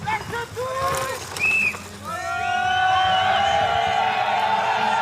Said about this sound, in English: The crowd going absolutely crazy